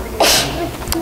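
A single short, sharp sneeze bursts out close to the microphone in a quiet library, then fades quickly.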